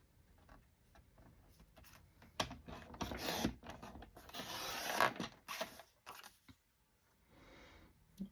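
Paper ephemera being trimmed for a vintage Christmas journal, a close, quiet run of small clicks and snips building into denser rustling and cutting before fading.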